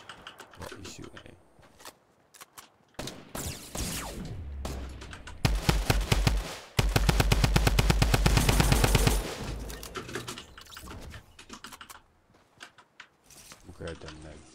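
Fortnite gunfire: scattered single shots, then a loud sustained burst of rapid automatic fire, with a player talking over parts of it.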